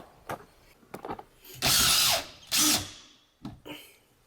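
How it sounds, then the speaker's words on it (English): A power drill drives screws through a board into the wall studs behind a stove, with two loud sustained whirring bursts between lighter clicks and handling taps, close by. "Now you're just going to screw the board into the studs"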